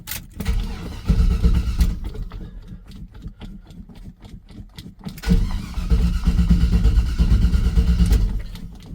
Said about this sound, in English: This truck normally fires off pretty quick.